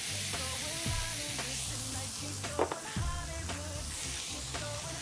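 Onions and garlic sizzle and hiss steadily on a new disco grill pan, close and continuous, with soft stirring scrapes and a few brief clinks. A voice sounds faintly in the background.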